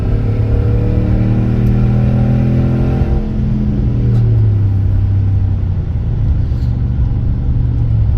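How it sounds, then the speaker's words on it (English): A Ram pickup with an MBRP exhaust revs up, its deep engine note rising then falling, and revs again around the middle, a loud close rumble with no talking over it. "So it's got a pretty nice exhaust note"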